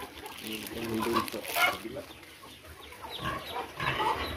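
Chickens clucking and squawking in a noisy farmyard with pigs, several birds close by with overlapping calls over steady background noise.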